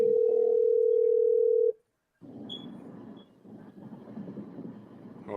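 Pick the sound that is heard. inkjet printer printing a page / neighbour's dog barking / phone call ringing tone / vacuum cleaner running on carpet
phone call ringing tone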